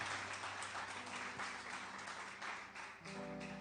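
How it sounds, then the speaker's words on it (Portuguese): A congregation claps loudly and steadily during a church service on Psalm 91, with a sustained tone entering underneath toward the end. "dê uma forte salva de palmas para esta palavra poderosa"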